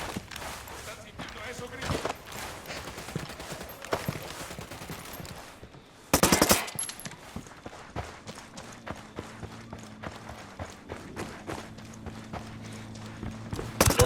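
Gunfire in Ghost Recon Wildlands: a burst of close, loud shots cracks out midway, with scattered sharp reports and impacts around it. Team voices talk over the action throughout.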